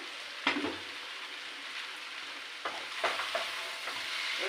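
Chow mein is stir-fried in an oiled pan, a soft sizzle broken by several scraping, tossing strokes of the spatula, each bursting up briefly before the frying settles back to a low hiss.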